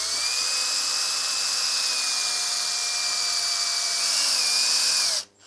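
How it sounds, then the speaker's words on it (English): A power drill bores steadily into a worn car wiper transmission, a close, sustained high whine holding pitch with slight wavering before cutting off abruptly at the end. "I'm not letting my drill go out past that circle"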